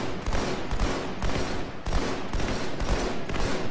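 Sustained automatic fire from a minigun in the multiplayer shooter Halo Online, a dense loud rattling burst with brief pulsing swells, continuous across the whole stretch with no talk.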